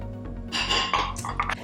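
Shrimp and imitation crab going into a pasta salad bowl, giving a short burst of light clinks and soft clatter against the dish, close and brief.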